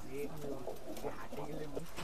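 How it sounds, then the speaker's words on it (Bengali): Omani Teddy pigeons coo repeatedly as they are let out, with layered overlapping calls close by over constant loft noise. "এই আর এক জোড়া কবুতর ছাড়তেছি,"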